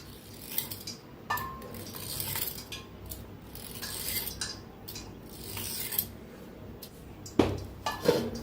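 A cutter running through rolled maida dough for shankarpali, giving soft repeated scraping and clicking strokes on a board, with clinks of utensils between them, close and moderately quiet, with no one talking.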